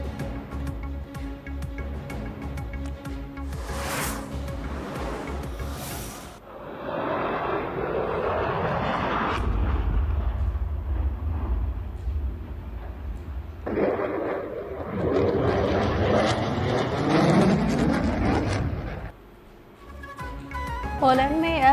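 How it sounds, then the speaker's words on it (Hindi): An F-16 fighter jet crashes during an air show rehearsal in Poland, giving a loud roaring jet engine rush that swells and fades. Voices are heard in parts of the recording. "पोलैंड में F-16 जहाज गिरकर तबाह हो गया। पायलट हलाक। लड़ाका तैयारा एयर शो की रिहर्सल के दौरान गिरा।"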